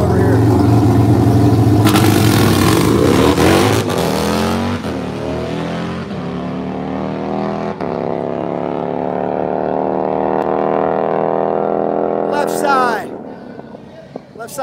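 A pro street Harley drag-racing motorcycle at an outdoor strip revs hard and loud, then pulls away and fades into the distance, with crowd and announcer noise underneath.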